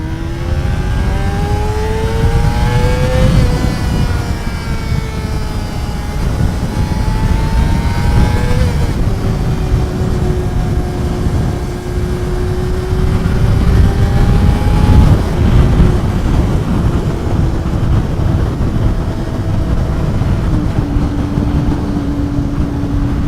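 A Honda CBR250R MC19 motorcycle pulls away and rides on, its engine note rising and falling through repeated revs and gear changes, loud and steady with wind noise throughout.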